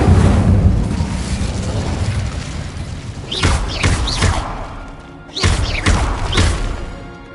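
The Incendio fire spell in Hogwarts Legacy roars as a loud, whooshing blast of flame, followed by several sharp bursting impacts during game combat.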